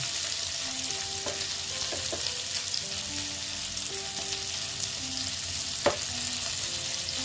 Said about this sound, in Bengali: পনিরটাকে আবার ভেজে নিচ্ছি